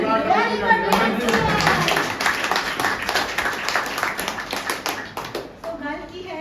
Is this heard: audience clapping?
yes